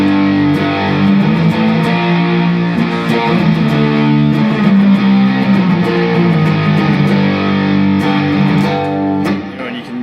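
A loud, thick, buzzing electric guitar, a 633 Engineering Custom 20, plays sustained chords through a woolly fuzz pedal, continuous and close.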